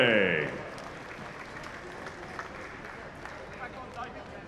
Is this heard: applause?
yes